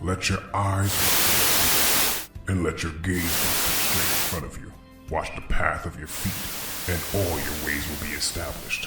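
Loud hissing radio static bursts in and cuts out in several blocks, broken by stretches of talking and alternating with it, the noise broad and harsh, close at hand.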